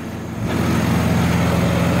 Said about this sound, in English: Got my noisy tractor running over there.